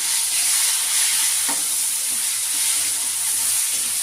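Tomatoes going into onions fried reddish in a pan for a prawn and taro stem curry, a loud steady hissing sizzle with a soft plop and light stirring.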